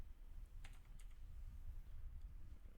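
Keys tapped on a computer keyboard while code is entered, a few faint, quick clicks in two short bursts over low background hum.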